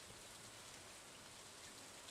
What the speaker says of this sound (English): Let's just listen to the lovely rain.